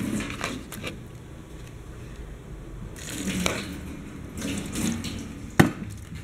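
Water with sodium hypochlorite poured into the cavities of a four-chili cutting machine tray, soft splashing and trickling in short bursts with a sharper drip near the end, fairly quiet.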